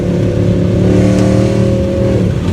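A Mercedes C63 AMG with Renntech P31 tuning roars loudly and close under hard acceleration. The engine holds a steady, harmonic drone, then its pitch drops near the end.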